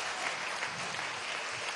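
A crowd at a Venezuelan constituent assembly event on disability applauds sign language interpreters: a dense, steady wash of many hands clapping at once, loud and close, with no break across the short span.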